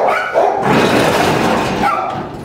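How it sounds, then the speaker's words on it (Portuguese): A dog barks at a door in a short loud burst of yelping barks that blend into one sustained outburst, close by. "Lá na porta, logo fica latindo aí."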